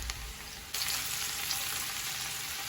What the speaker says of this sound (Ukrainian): Тепер додаємо сюди печериці. І також піджарюємо до золотистості.